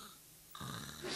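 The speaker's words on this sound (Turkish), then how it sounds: "Horlama, horlama, hadi." A man dozing soon after a meal lets out one rough, nasal snore, starting quietly and swelling into a loud rasp near the end of the brief moment.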